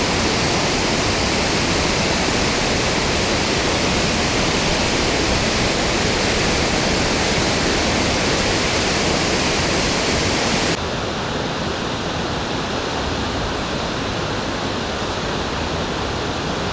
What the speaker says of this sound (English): So this is the top of the waterfalls that you have to cross.